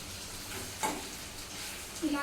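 Food fries in oil in a pan, a soft continuous sizzle with a faint crackle, steady and close throughout, with a couple of small clinks.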